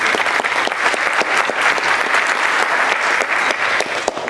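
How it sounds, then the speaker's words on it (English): A town hall audience for a legislative district meeting applauds the moderator, dense sustained clapping from many hands, loud and even throughout with no voices over it. "give her a round of applause"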